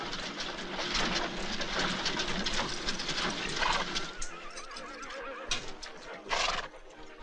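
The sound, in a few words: horse neighing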